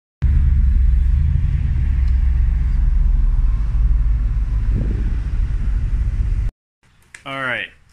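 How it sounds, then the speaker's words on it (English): A Lamborghini sports car engine rumbles loudly and steadily for several seconds, close by, with a brief rising rev near the middle, then cuts to near silence before a short tonal sweep at the end. "There's Lamborghini."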